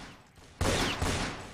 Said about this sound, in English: the guy shoot me with a sniper